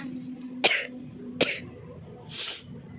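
Two sharp, close coughs come in quick succession, followed by a softer breathy exhale, against a quiet indoor background.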